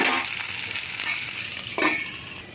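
Pumpkin, beans and chopped green chilli fry in a pan, giving a bright continuous sizzle with a few spatula stirs scraping through. Close and steady, and no one speaks.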